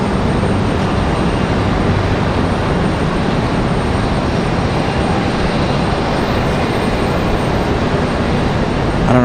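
A departing airplane at Raleigh Durham International Airport produces a loud, continuous broadband engine roar that holds steady throughout, close and overwhelming with no talk over it.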